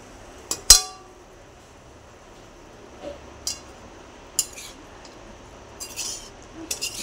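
Spoon stirring cauliflower and potato curry in a pan, with a few sharp metallic clinks and scrapes spaced irregularly over a quiet background.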